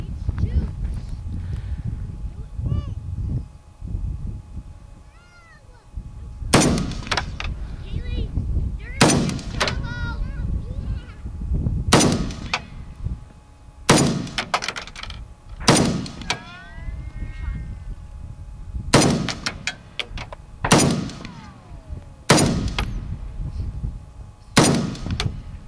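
Ruger Mini 14 rifle shots ring out close by, about nine sharp cracks spaced a second or two apart and then in quicker pairs, with people talking underneath between shots.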